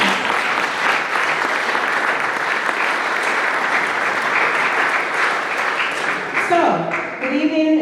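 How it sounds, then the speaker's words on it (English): Sustained audience applause fills a room at a community open house and oath-of-office meeting, steady and dense before thinning out near the end as a voice begins speaking over it. "Please clap it up."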